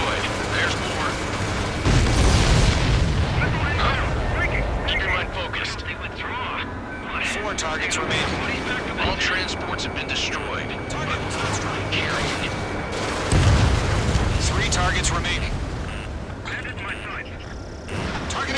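Explosions boom as targets are destroyed in the Ace Combat 7 flight game, with two heavy low blasts standing out among dense combat noise, jet roar and sharp pops, while radio voices talk throughout.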